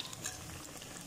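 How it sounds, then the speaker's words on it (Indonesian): Banana pieces sizzle and bubble in hot frying oil, a soft continuous crackle with small pops, quiet and steady throughout. "Aku mau goreng pisangnya."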